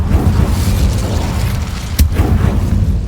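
Incendio fire spell cast in Hogwarts Legacy, a loud dense roaring burst of flame with a sharp crack about two-thirds through, sustained throughout without speech.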